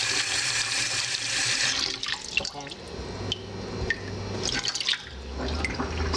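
Water gushes from a tap into a pot, a steady rushing stream that gives way to splashing and drips as the flow changes.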